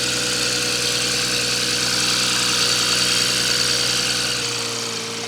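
A BMW X3 M40i engine idling during a PCV diaphragm replacement, a steady mid-pitched hum with a faint vibration, close and even before easing off slightly at the end.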